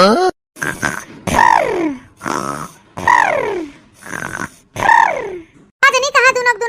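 A voice imitates snoring with a series of drawn-out, rising-and-falling grunting breaths, repeated in a steady rhythm, close and loud.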